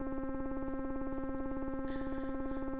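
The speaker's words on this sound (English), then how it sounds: "it sounds like static because VCO2 is currently set to audible frequency" A buzzing, static-like tone comes from an Arturia ARP 2600-V software synth, with a VCO2 sine wave set to audible frequency modulating the oscillator. It holds steady and loud throughout, with a gritty, rapidly pulsing texture and no talk.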